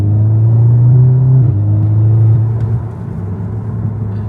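A car driving on a wet road gives a steady, loud low engine drone from inside the cabin. The pitch dips slightly as speed changes and there is no talking.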